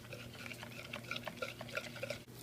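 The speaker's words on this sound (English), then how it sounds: "you're going to mix this until it is thoroughly combined" Milk and vanilla being mixed in a bowl, a quiet series of irregular soft stirring clicks and scrapes of a utensil against the bowl, close and faint, without talk.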